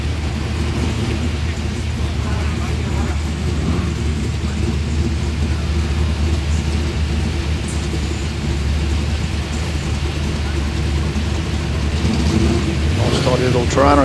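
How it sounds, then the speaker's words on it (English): Muscle cars rolling into a Cars & Coffee meet, a continuous low engine rumble from a steady stream of vehicles, with a car passing more closely near the end and voices talking over it. "you'll see that this just is a continual flow of cars coming in"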